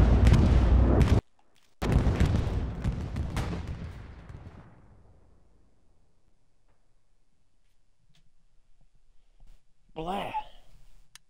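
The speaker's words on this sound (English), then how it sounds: "this is a horrible fucking bombing run" During a bombing run in the WWII shooter Hell Let Loose, loud booming explosions and gunfire roar for about four seconds and then fade into a long rumbling tail, and a voice speaks near the end.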